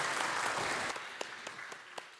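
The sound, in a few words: congregation applause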